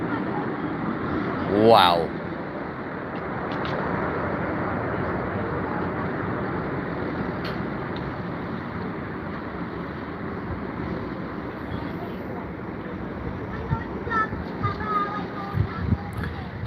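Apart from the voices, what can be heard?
aircraft engines roaring on approach at Heathrow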